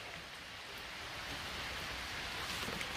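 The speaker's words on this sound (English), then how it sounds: "Very rain. Heavy rain. Oh my gosh. The rain is too much." Heavy rain pours steadily outdoors in a constant dense hiss, fairly loud and even throughout, with no voices.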